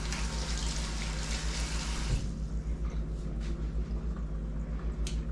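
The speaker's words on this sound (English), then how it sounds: "Wash my hands real quick." Hands scrubbed under a running kitchen tap while cooking lamb chops, with a steady rush of water that shifts in tone midway as the hands move through the stream.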